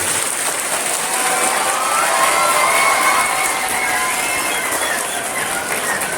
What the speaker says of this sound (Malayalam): എല്ലാവരും കൂടി ഒന്ന് കൈയടിച്ച് ബഹളം ഉണ്ടാകാം